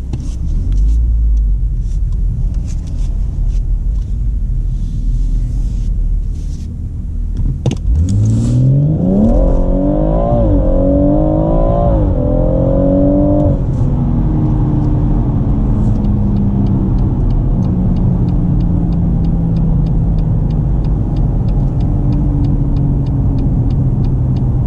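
A BMW M140i accelerates hard from a standstill in a 0 to 60 run, heard from inside the car. The engine rumbles loudly and climbs through rising revs with quick gear-change dips, then drops into a steady cruising drone.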